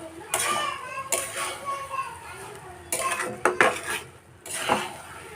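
Pulao rice stirred in a pot after the lid comes off, a spoon clanking and scraping against the metal in several distinct strokes, close and fairly loud, with faint voices in the background.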